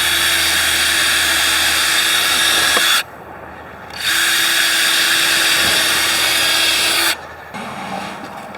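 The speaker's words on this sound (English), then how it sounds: "So drilling the pilot holes," A power drill bores pilot holes into very hard, oak-like wood for a firewood rack: two loud, steady whirring bursts of about three seconds each, separated by a short pause, then a quieter tail.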